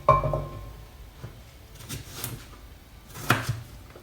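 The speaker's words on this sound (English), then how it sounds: "you're gonna cut it into like little like chunks and you're gonna put it into your pan" A knife chops pumpkin into chunks on a board, with a few distinct close knocks spread irregularly between quieter pauses and no speech.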